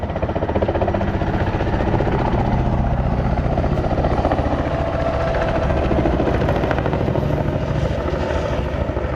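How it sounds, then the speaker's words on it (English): A helicopter's steady, heavy rotor thrum and engine roar fill the whole stretch, loud and unbroken, at the NAS Oceana air show in 2000. "Now the helicopter has been called in."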